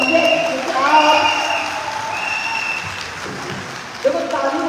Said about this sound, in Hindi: तो ताली अपने लिए बजा दीजिए।